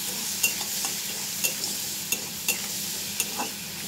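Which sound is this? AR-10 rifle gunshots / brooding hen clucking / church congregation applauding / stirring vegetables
stirring vegetables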